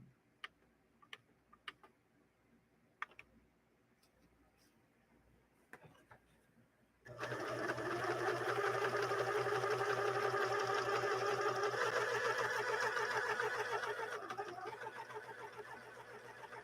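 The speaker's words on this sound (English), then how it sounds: "So the tri-motion on the machine is also responding correctly with this decorative edge stitching stitch." After a few scattered clicks, a sewing machine starts up and runs steadily for several seconds while stitching a decorative edge stitch, a dense rapid mechanical chatter, close and loud, easing slightly near the end.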